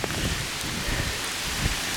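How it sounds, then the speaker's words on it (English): Steady rain falling outdoors, a dense close hiss of drops with no voices. "Everything's getting rained on."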